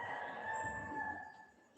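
A rooster crows in the background, a faint, distant drawn-out call that fades toward the end, heard alone without talk.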